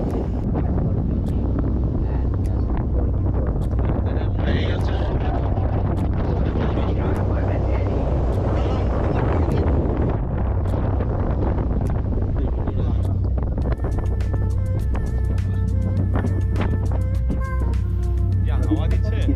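Wind rushes steadily against a tour boat heading out toward deep sea among the Phi Phi islands off Phuket, Thailand, a loud, constant, blustery roar with engine-like rumble underneath and a voice talking through it.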